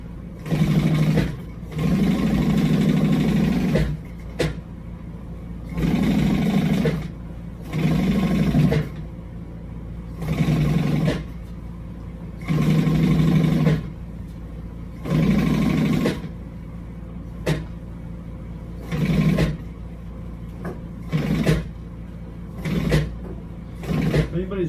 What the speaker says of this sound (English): I'm going to sew across there anyway. And put a top stitch on that piece.